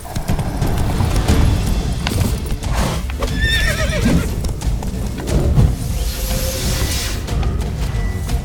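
Roach, the horse in The Witcher 3, trots with steady clip-clop hooves and gives several whinnying neighs, loud and close over continuous game ambience.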